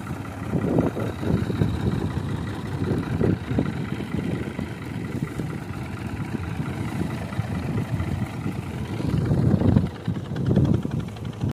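A tractor pulling a trolley loaded with harvested wheat runs steadily in the field, a continuous low engine rumble with wind buffeting the microphone throughout.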